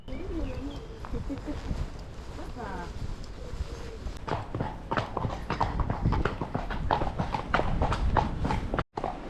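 Horse hooves clip-clop in a steady rhythm during a ride in Chantilly, France, heard under a person talking, with birds cooing and calling in the background.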